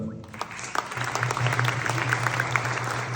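Steady audience applause fills a hall at a November 2024 tribute concert, with dense clapping over a low background hum and a few louder individual claps standing out.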